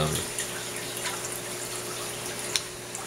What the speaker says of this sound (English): Luckily I don't have this thing dripping too fast